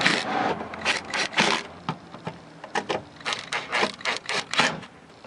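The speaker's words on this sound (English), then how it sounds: "So I'm going to get my 10mm screw and put them back in." 10mm screws are driven back in to mount a Clarion car door speaker, making close, irregular bursts of grinding, scraping turns separated by brief pauses.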